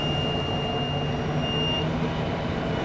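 A continuous engine fault alarm buzzer sounds on a landing system after the engine is e-stopped and a breaker trips, a steady high electronic tone over loud, dense machinery noise that cuts off abruptly partway through.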